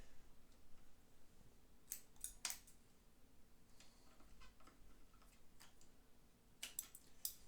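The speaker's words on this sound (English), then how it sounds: "I'll take my scissors and I'll go ahead and cut the rubber band" Scissors snip through a rubber band on a vintage sewing machine setup, a few sharp metallic clicks in two small clusters over a quiet background, close and crisp.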